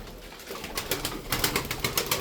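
Tumbler pigeons coo in soft, repeated bursts that grow busier toward the end, set against a steady background hiss with no talking.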